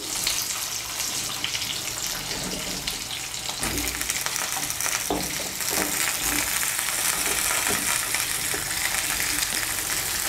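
Flat beans and potatoes fry in oil in a pan over medium heat, giving a loud, steady sizzle that runs throughout, with stirring scrapes and clatter near the middle and no one talking.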